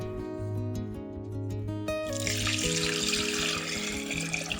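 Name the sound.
water being poured into a saucepan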